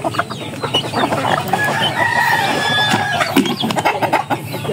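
Chickens cluck busily at close range while being fed by a girl, with a rooster-like call rising through the steady, overlapping chatter of the flock.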